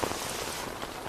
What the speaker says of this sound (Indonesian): Ran dan Xiao Han berjalan di tengah hujan yang deras.